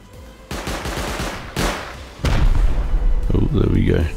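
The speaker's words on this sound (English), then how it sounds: "Wow, they set up loads of turrets." Automated turrets in Rust let loose loud bursts of rapid fire that start and stop abruptly, followed by a sustained heavy barrage, with excited talking over the shooting.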